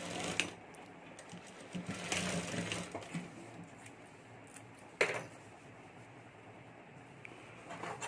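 A sewing machine stitches a zip onto the border of a clutch purse in short, uneven bursts of mechanical whirring, close by, with pauses and a sharp click partway through.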